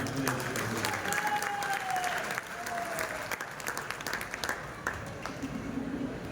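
Loud, sustained audience applause fills a crowded hall at a business speech event, dense clapping with crowd murmur running throughout.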